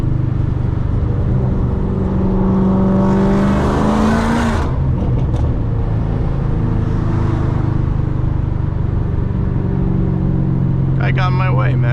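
A 700 hp Ford Mustang GT500 on stock tires accelerates hard, its loud engine roar climbing in pitch, dipping briefly and then building again, with a voice speaking over it.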